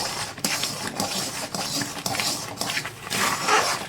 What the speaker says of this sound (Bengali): নাড়া দিতেছি